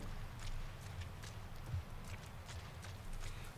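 A horse's hooves clip-clop in The Last of Us Part 1, a faint, steady, rhythmic patter of hoofbeats under quiet background ambience with no talking.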